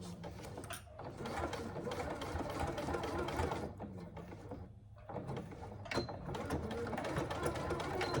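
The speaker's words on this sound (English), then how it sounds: "you stitch this at 1/4 inch seam allowance, making sure you back stitch to secure your stitches at the start and stop again" A sewing machine stitches a 1/4 inch seam on a hobo bag pattern, running in long continuous bursts with brief pauses between them, loud and close throughout.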